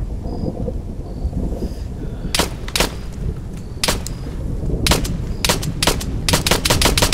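Gunfire in the Arma 3 military game, several sharp shots in irregular bursts over a steady rumbling, rain-like background, growing into rapid volleys toward the end.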